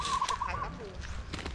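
A wild bird brought down with a slingshot calls in a quick series of high, wavering notes near the start, then the calling fades into rustling outdoor background noise.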